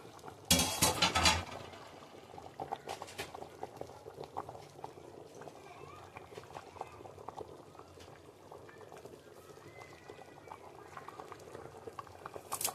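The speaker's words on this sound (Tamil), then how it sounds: "குழம்பு நல்லா கொதிச்சிருச்சு" Country chicken curry with coconut bubbling in a pot, soft continuous popping and gurgling heard close and faint, after a brief louder clatter at the start.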